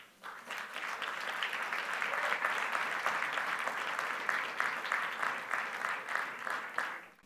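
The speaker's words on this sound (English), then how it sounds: "join me in welcoming Raoul Pal with a big applause." A conference audience applauds steadily for several seconds, a dense, sustained wash of clapping that holds its level before tapering off at the end.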